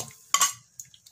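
A metal lid is set onto a cooking pot, giving one sharp clanking clatter followed by a few lighter taps and rattles as it settles, close and clear in a quiet kitchen.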